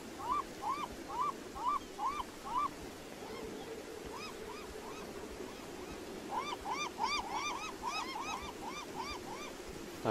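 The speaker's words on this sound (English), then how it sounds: "I'm beginning to dislike you birds." Birds calling in the Beyond Eyes video game: a series of short, evenly spaced chirping or hooting calls, then a pause, then a denser burst of overlapping calls over a soft, steady ambient wash.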